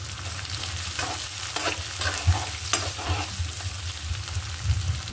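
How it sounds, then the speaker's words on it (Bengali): Chopped onion fries in hot oil in a pan as a spoon stirs it, a continuous close sizzle broken by repeated scraping strokes. "পেঁয়াজটা আমার ভাজা হয়ে গেছে।"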